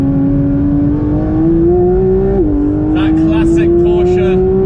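A Porsche 992 GT3 sports car's engine drones loudly and steadily as it drives, pitch rising slowly, dipping briefly at a shift, then climbing again, with brief higher whirring bursts near the end.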